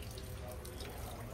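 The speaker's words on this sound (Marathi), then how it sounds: "जोरात जोरात पाणी येऊ दे" Tap water running strongly into a sink on a kitchen ad shoot, a steady rushing splash heard close and continuous over its brief span.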